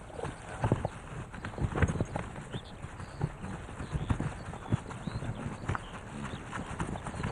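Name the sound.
wild horses moving, hooves clip-clopping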